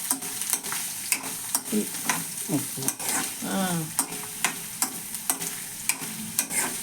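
Food fries in hot oil in a pan, a continuous sizzle broken by repeated sharp scraping and clinking stirs at close range, with faint voices briefly in the background.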